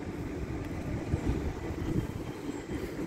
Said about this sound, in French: la gare Saint-Lazare avec tous les trains qui partent